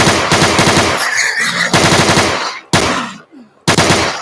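Rapid video game gunfire in a zombie shooter, loud and close, in several bursts of automatic fire separated by brief gaps.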